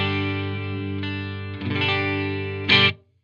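Clean electric guitar tone through an ENGL Ironball SE amp: sustained chords ring with chorus-like shimmer, then a busier strummed passage and a brighter final strike that quickly fades out.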